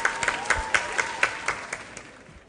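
Audience applause for quiz contestants at the end of a round on a TV quiz show, with a scattering of sharp claps that fade over a couple of seconds.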